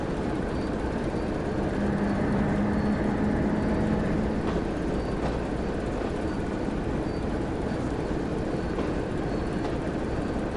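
A locomotive in Train Sim World on the West Somerset Railway rumbles steadily along the tracks, a dense continuous roar with faint periodic clacks and no voices.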